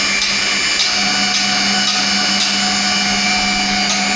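Magnetic drill boring P20 holes, a steady loud motor whine with a constant hum and faint periodic ticks from the cutter, running alone throughout.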